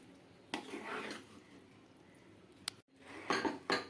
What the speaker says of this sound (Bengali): পাস্তাগুলো আমি এখন মিশিয়ে নিচ্ছি